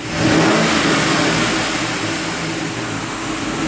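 A 2007 GMC Yukon with a replacement engine rumbles loudly close by, with a revving surge at the start, then holds a steady, throaty idle.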